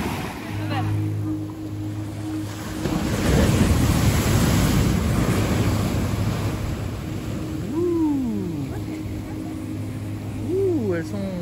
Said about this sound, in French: t'as le droit à un beau spectacle de vagues ce soir